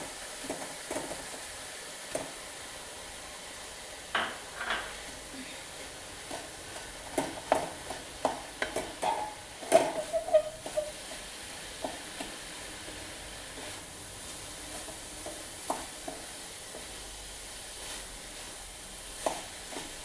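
Cooked dal being stirred into spinach thoran in a pan, a soft sizzle under scattered scraping and stirring taps that bunch up mid-stretch, close and moderately quiet.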